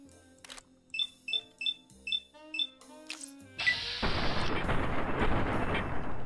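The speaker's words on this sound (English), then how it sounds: "now I'm gonna shoot your head" Gunfire in Fallout New Vegas: a run of six sharp, evenly spaced shots with bright metallic ring, a few clicks, then a loud, sustained noisy blast that carries to the end.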